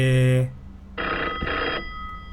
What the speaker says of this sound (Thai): แต่มีคนโทรมานะครับ